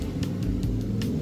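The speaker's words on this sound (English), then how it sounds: "Sorry about the traffic noise." Low, steady rumble of passing road traffic, fairly constant, with faint periodic hiss bursts on top; no one speaking.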